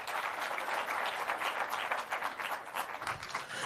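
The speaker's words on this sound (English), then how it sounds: "A round of applause for Mr. Chairman Tafadhali." Audience applause at a Safaricom Chapa Dimba Season 5 launch event, a steady, dense crowd clapping that carries evenly through the whole moment without speech.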